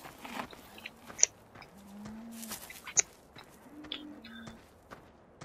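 Cattle in the video game Farming Simulator 15 give several low moos at a moderate distance, with soft ambient bird chirps and faint clicks between the calls and no talk.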